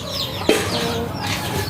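Backyard chickens clucking around feed of cooked rice mixed with rice bran, a steady flock murmur with one sharper squawk, close and moderately loud.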